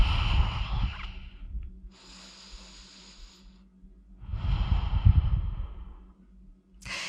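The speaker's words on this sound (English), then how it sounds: "Take a deep breath." Two deep breaths, a slow inhale and a long exhale, taken during a restorative shoulder exercise, close and fairly loud with quiet gaps between them.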